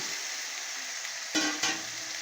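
Potatoes and jackfruit stir-fried in spiced masala sizzle steadily up close, broken by two short scraping stirs near the end.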